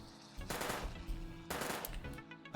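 Rapid gunfire in the FPS Chess video game, two loud automatic bursts in close succession with a short pause between, ending a headshot, no talk over it.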